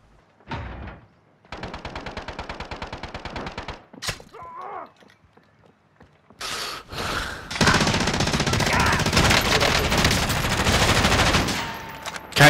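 Gunfire rattles in Call of Duty: Modern Warfare, rapid automatic bursts close and loud, then a pause with a few thumps before a long, dense volley of shots. A voice is heard faintly in the gap.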